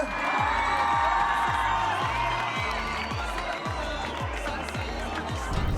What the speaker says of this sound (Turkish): Edoş'uma büyük bir alkış alabilir miyim önce?